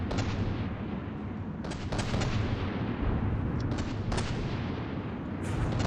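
Rapid gunfire and bursts of shooting from a multiplayer video game, heavy continuous firing with sharp volleys throughout, loud and dense with no talk over it.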